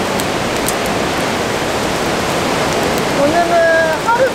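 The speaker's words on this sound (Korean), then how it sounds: "오늘은 하루 종일 비가 이렇게 오졌나 봐요" Steady rain falls around a car during solo car camping in a forest, a dense continuous hiss throughout, with a few faint tonal streaks near the end.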